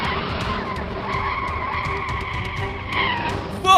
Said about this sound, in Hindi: अपनी गाड़ी शुरू करो, कमाल की आवाज आने वाली है।